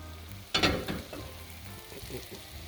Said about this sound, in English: Yes, it's simmering.